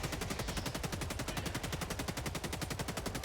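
Rapid steady stream of LAS-16 Sickle laser rifle fire in Helldivers 2, a continuous fast pulsing chatter held loud and close throughout, with no talk.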